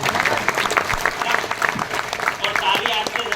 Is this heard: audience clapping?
yes